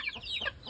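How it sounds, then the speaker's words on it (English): A chicken on a farm gives a few quick, faint clucks against soft outdoor background noise, lasting well under a second. "see, that is a chicken."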